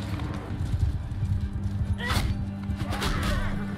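Horse hooves in the video game Bannerlord make rhythmic clip-clop thuds under a player's talk, with a few sharper impacts midway, moderately loud and near.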